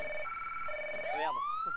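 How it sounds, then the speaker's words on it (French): A police siren in Arma 3 wails in steady alternating two-tone pulses, then sweeps upward into a rising wail, loud and close with no voices. "Stop. Y'a la sirène."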